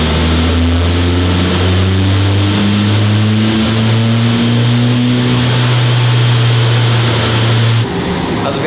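Car engine held at steady revs on a dynamometer, a loud, close, sustained drone that climbs slightly in pitch, then drops away near the end.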